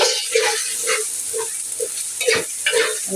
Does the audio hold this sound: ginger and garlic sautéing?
yes